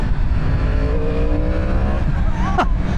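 A Yamaha R1 superbike ridden at light throttle along a country lane gives a close, loud, steady engine drone with a smooth tonal hum that rises briefly near the end.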